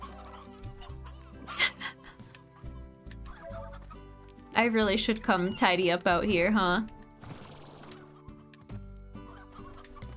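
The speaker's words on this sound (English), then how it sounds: "There's a lot of chickens in this area" Chickens clucking in the video game Slime Rancher, a burst of loud overlapping clucks and squawks partway through, with a person talking before and after over a background game soundtrack.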